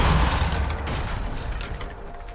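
A Depulso spell cast in the Hogwarts Legacy video game, a single loud booming blast that slowly fades over a couple of seconds, with no talking.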